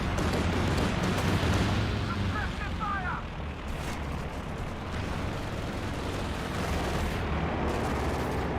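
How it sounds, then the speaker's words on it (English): Tank cannon rounds striking a T-34 in Company of Heroes 2, heard as a dense, loud wash of battle noise with thudding gunfire and blasts running continuously throughout. "First couple of rounds of hitting the T-34."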